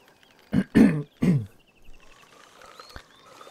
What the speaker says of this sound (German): Kurz mal räuspern.